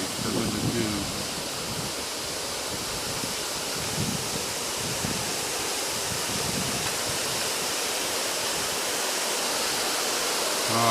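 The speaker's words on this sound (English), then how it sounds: "Water coming over the spillway." Water pours over the Hinckley Lake spillway in a steady, loud, rushing roar that holds for the whole stretch, with brief faint sounds near the start.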